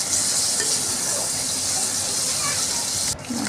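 Spice paste of ginger, garlic and green chilli sautéing in oil with chopped onion for a Bengali fish-head rice dish, a steady loud hiss and sizzle throughout that briefly dips near the end.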